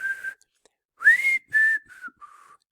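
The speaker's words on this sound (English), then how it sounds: "I'm not a very good whistler." A person whistles a short tune of several clear, sliding notes with brief gaps between them, alone and close by, in a somewhat halting, amateur style.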